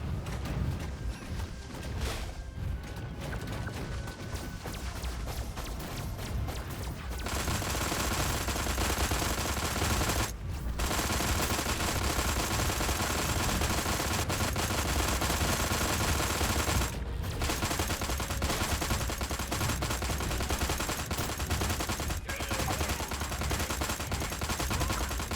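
Video game gunfire in Destroy All Humans (2020) plays as continuous rapid bursts of shots, loud and dense, broken only by a few brief pauses.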